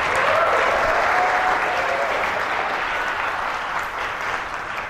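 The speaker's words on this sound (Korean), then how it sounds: "우리 이분들 박수 한번 부탁드릴게요." An audience at a youth camp gathering bursts into steady, full applause that holds loudly for several seconds before easing slightly at the end, dense and close.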